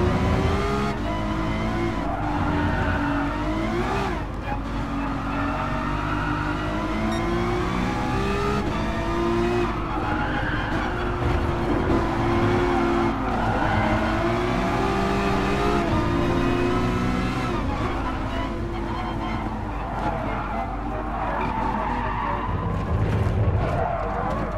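A racing car in the video game Gran Turismo Sport runs a curving course with a loud, close engine that revs up and down through repeated gear changes, and tire squeal marks the corners across the whole stretch.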